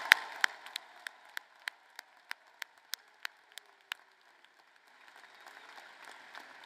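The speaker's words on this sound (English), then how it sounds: "Everyone, a round of applause." Sparse, sharp claps from a commencement ceremony audience ring out one at a time at an even pace, faint and echoing, before thinning out into near silence.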